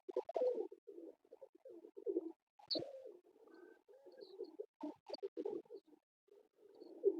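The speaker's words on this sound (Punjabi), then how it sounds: "ਇਹ ਮੱਗਰ ਕਬੂਤਰ ਹੈ।" Soft, repeated cooing of a Teddy King pigeon of a line-bred breed, close by in a quiet setting, with rolling coo phrases and brief pauses throughout.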